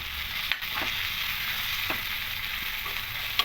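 Chili powder stirred into vegetables frying in a pan for a coconut snake gourd curry: a steady close sizzle with occasional spoon scrapes and taps.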